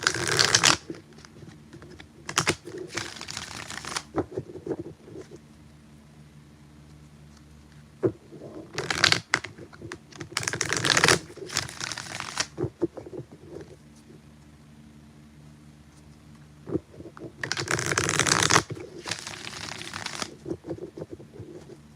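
Tarot cards are shuffled in several brisk riffling bursts separated by quieter pauses, close and crisp, with faint background hum.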